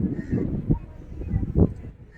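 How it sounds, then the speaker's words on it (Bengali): A flock of waterbirds beside a lake near a triple river confluence gives a few close goose-like honks and calls over steady outdoor ambience. "ঝিলের পাশে পাখিগুলো একদম উড়ে চলেছে নিজেদের মধ্যে দল বেঁধে"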